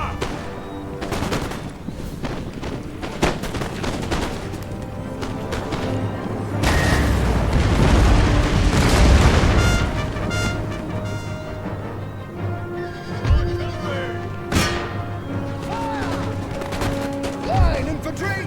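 Line infantry in a Total War game fire musket volleys, dense crackling rounds of gunfire swelling into a heavy rolling roar mid-battle, then scattered booming shots, with a commander's shouted orders over the din.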